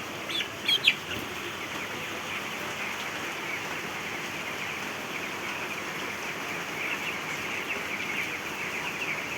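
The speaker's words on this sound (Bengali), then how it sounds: "আলহামদুলিল্লাহ সব কটা মুরগি সুস্থ আছে" Broiler chickens in a poultry shed give a few brief clucks at the start, then light steady rain on the roof hisses on alone for the rest.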